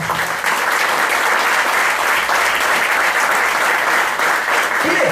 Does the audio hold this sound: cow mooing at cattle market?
no